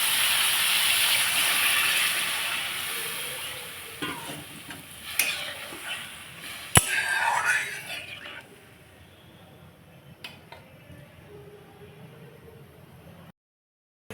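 Water poured into hot spiced oil in a pan sends up a loud, steady hiss and sizzle that breaks into scattered spits and pops, then settles into a quieter bubbling simmer before cutting off.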